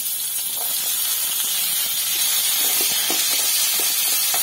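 Yellow pumpkin and curry leaves sautéing in a pan, a loud continuous close sizzling hiss with faint stirring taps underneath.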